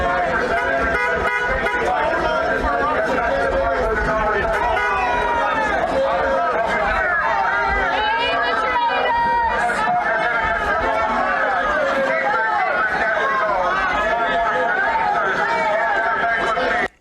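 Protesters crowd together outside Parliament in Ottawa, their dense chatter and shouting filling the air, with car horns tooting intermittently through the steady din.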